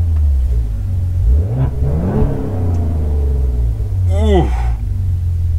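A 2020 Maserati Levante engine revving, a deep close rumble that climbs and falls in a couple of short blips, with a voice speaking over it.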